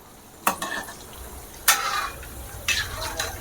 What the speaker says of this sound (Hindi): लिट्टी को इसी तरह फ्राई कर लेना है बिल्कुल, देख सकते हैं, और बिल्कुल पका के निकालना, बीच बीच में चलाते रहना है